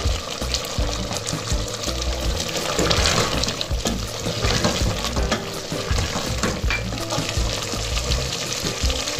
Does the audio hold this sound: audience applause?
no